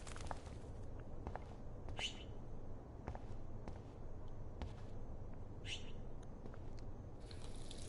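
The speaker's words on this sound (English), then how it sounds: "That poor little bird has been trapped in here." A small bird trapped indoors in the game Life Is Strange gives a couple of faint, sharp chirps over a low, quiet room ambience, with soft scattered taps and rustles in between.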